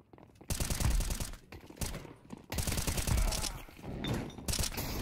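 Bursts of automatic gunfire in Counter-Strike 2, loud, dense rapid-fire volleys in several long stretches separated by brief pauses.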